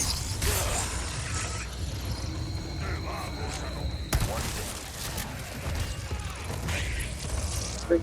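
A crank mechanism is turned in Resident Evil 4, giving a continuous grinding, ratcheting creak of gears and pulleys with scattered clanks and a sharp knock partway through, under game background noise.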